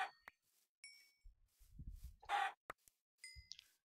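Chickens in the video game Yolocraft, a few short scattered clucks and squawks spaced over a few seconds, faint and close with quiet gaps between them.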